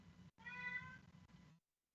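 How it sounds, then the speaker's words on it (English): A house cat gives one drawn-out meow, quiet but clear, nearby and alone, ending in silence. "You want to hear my cat?"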